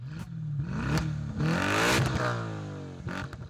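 A V8 engine on an MTM-tuned car revs hard and close, with rising and falling harmonic sweeps, a sustained high-rpm push in the middle and crackling exhaust, and no voices.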